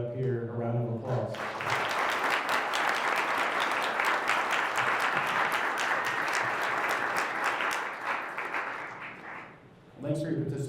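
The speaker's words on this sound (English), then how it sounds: "Let's give everybody up here a round of applause" A large audience at a summit welcome session breaks into sustained applause, loud and dense with many hands clapping, swelling and holding for several seconds before tapering off as a voice returns at the end.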